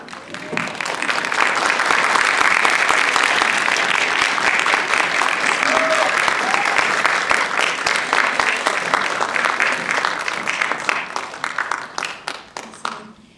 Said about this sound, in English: give one round of applause for all of our models